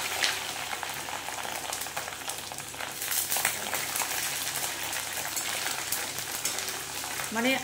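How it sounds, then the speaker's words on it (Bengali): Onion, chopped and grated ginger and chopped chilli fry in a pan for a vegetable curry, a steady close sizzle and crackle running continuously throughout with no one speaking. "এবারে দেবে আদা কুচি, আদা গ্রেট করা আর লঙ্কা কুচি, এই দিয়ে ভালো করে কষে নেবে।"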